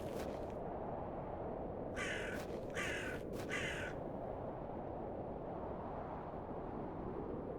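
Crows in the point-and-click adventure game The Excavation of Hob's Barrow, set on barren moors: three loud, clear caws in quick succession over a steady windy ambient bed, with no voices.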